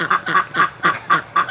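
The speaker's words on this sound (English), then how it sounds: "All the geese and the Muscovies." Geese and Muscovy ducks call from near a window in about six evenly spaced, loud, nasal honking calls over under two seconds.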